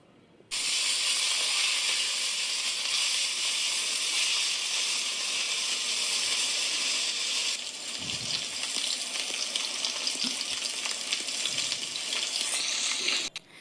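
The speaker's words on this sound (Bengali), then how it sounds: "তেল গরম হয়ে আসলে পেঁয়াজ কুচি দিয়ে পেঁয়াজটাকে ভালোভাবে ভেজে নেব।" Continuous loud sizzling of chopped onions frying in hot oil, steady and close, with a few soft clinks partway through and no talking.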